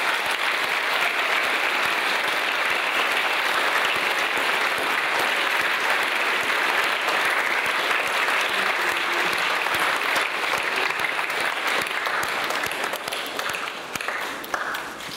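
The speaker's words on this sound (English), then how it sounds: "So a big applause for our school staff." Sustained applause from a large crowd at a parish gathering for the school staff, dense steady clapping that continues throughout and tapers slightly at the end.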